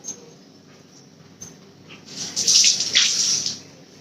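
Water is poured into a tamarind-based seela fish curry, a short, bright splashing gush that swells near the end after a quiet stretch of faint kitchen sounds.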